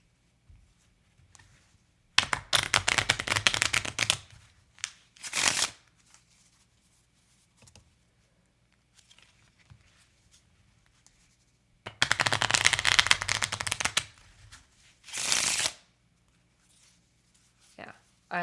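A deck of tarot cards shuffled by hand, two long riffling bursts, each followed by a short bridge-like flutter, close and crisp, with quiet gaps between.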